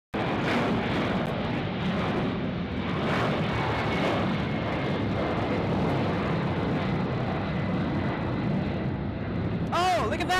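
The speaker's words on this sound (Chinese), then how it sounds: "Was that a compressor stall?" Delta Air Lines Boeing 767 climbing out on takeoff at Los Angeles airport with an engine compressor stall, a loud continuous jet engine roar throughout, with a brief burst of excited voices near the end.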